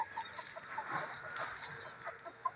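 A fighting rooster clucks softly in a farmyard, giving a string of short, scattered clucks close by with no talking.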